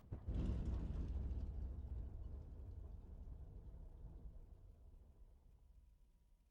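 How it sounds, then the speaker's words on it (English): A P-51D Mustang's piston engine in the DCS combat flight simulator shuts down at idle cutoff, a deep, heavy rumble that slowly fades and thins over several seconds. "Set the fuel mixture to idle cutoff to shut down the engine."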